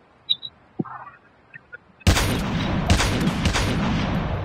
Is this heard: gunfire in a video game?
yes